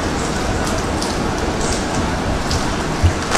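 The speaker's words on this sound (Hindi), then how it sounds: "बारिश पड़ रही है" Steady rain falls and patters on surfaces in the mountains at Mall Road, Manali, making a continuous dense hiss with occasional louder drops.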